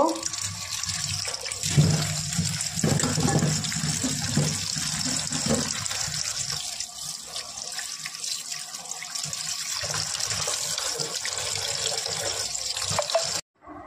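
Drumstick (sajne) leaves are rinsed under a running kitchen tap: a steady, close gush of water that splashes and shifts in tone for about thirteen seconds before stopping abruptly, with no talking.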